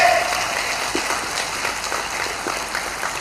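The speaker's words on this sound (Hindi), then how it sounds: "एक एक हाथ उठा करके, ताली बजा करके इनका एहसास दिलाए" Audience at a political rally clapping steadily, a dense continuous patter of many hands heard somewhat distant and even in level across the whole stretch.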